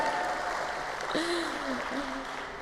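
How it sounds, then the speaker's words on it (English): Steady applause from an audience at a keynote talk on peace with Iran fills the room, a continuous wash of clapping with a voice rising over it partway through. "Clap for that."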